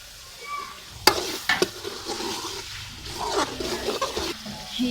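Potatoes dropped into hot tempered spice oil with chillies sizzle in a pan while being stirred, sharp scraping knocks of the spoon over a steady frying hiss, close and alone.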